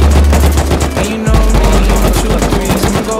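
Gunfire in the survival game Rust comes as fast, very loud automatic bursts, close and rhythmic, with a brief pause partway through before the shooting resumes.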